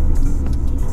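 Turbocharged Mercedes-AMG A35 sedan accelerating, heard as a deep, steady engine rumble from inside the cabin over a single continuous second.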